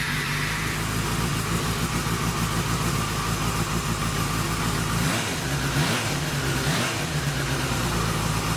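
A 2004 Yamaha FZ6 motorcycle engine runs at a steady, close idle with a low rumbling throb throughout, with a brief change in tone partway through and no talking.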